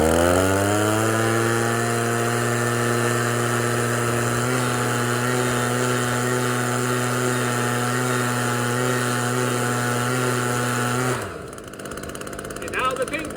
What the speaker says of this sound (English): we're going to have to use our Steel BG50 blower powered by VP Fuel 50-to-1 premix